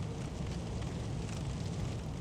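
Fires crackle in Sekiro: Shadows Die Twice as a steady, dense hiss and crackle with a low rumbling bed, continuous and fairly loud, with no talk.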